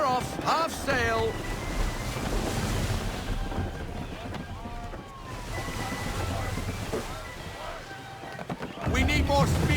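Strong wind gusts over open sea in Assassin's Creed 3 as a sailing ship creaks and water sloshes against the hull, with a steady roar under shouted crew orders.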